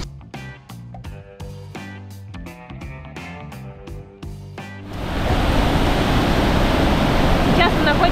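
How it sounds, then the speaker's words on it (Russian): After several seconds of music, a loud, steady roar of rushing water takes over, heard from a viewing platform overlooking the top of a waterfall in Mexico. "Сейчас мы находимся на обзорной площадке, с которой открывается вид на вершину водопада."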